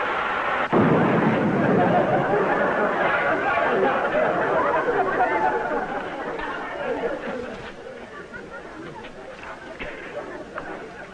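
A pressure cooker blows up as a 1951 radio comedy sound effect, a sudden loud blast followed by a long rumbling roar and clatter that slowly fades, with voices chattering beneath.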